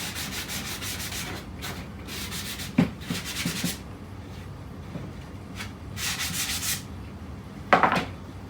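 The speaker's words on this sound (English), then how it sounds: "So I'm going to sand all my pieces first." Hand sanding of rough scrap wood pieces, with repeated scratchy rubbing strokes in bursts and a couple of louder knocks, close and moderately loud with no talking.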